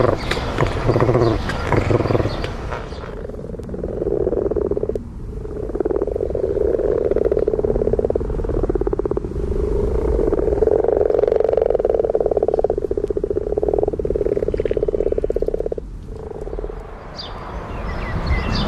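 Frogs call from an allotment pond in a loud, continuous croaking chorus of overlapping voices, pausing briefly before resuming close by.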